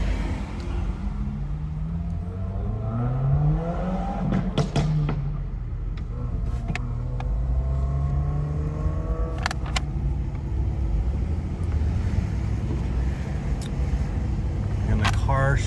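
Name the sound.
1988 Chevrolet Caprice Estate driving on the road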